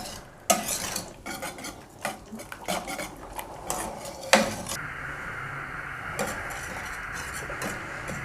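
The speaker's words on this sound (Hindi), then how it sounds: "थोड़ी थोड़ी देर बाद ऐसे हिलाते रहना है ताकि नीचे लगे नहीं" A spoon stirs rice kheer in a metal pot, giving scraping strokes and sharp clinks against the sides, followed by a soft steady simmering hiss.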